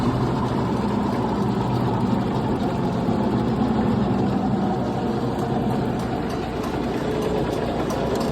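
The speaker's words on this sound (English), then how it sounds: "That's still in gear. Tractor ain't moving." An IH Farmall 140 tractor engine idles in gear with a brush hog hitched, a constant loud, rough low rumble that runs unbroken throughout with no voices.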